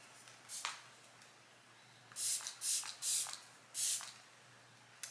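Several short hissing sprays from a makeup setting spray pump bottle close up, one early, then four quick bursts in a row with brief gaps.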